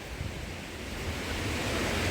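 Taraabu waterfall rushes in a dense, unbroken roar of falling water, steady and fairly close, with no voices.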